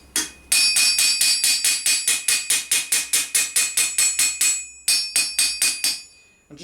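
Armour plate for medieval armour is hammered on the face of an anvil in a rapid, even series of about twenty ringing metallic blows, close and loud, with one short pause before a few more strikes.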